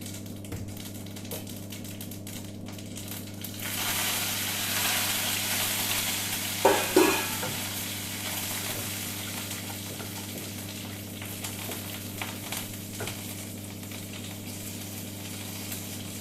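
Mustard seeds, curry leaves and cumin splutter in hot oil for a vallarai keerai kootu, a steady close crackling sizzle with a few sharper pops partway through, and no voices.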